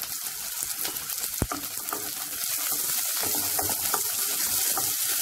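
Green peas and onions fry in a pan for Schezwan fried rice, giving a continuous close sizzle with scattered crackles and one sharp clack early on.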